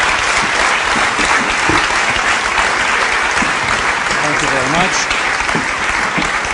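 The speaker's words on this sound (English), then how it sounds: "please give them a great big round of applause for that wonderful context." Conference audience applauding a panel at an event on green policy, a loud, sustained round of clapping throughout while someone speaks briefly over it.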